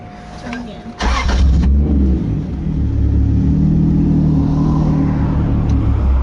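The engine of a 2JZ-swapped 240SX drift car catches with a sudden loud start and then settles into a steady, heavy, rumbling idle with slight revs, close by. Voices talk faintly underneath.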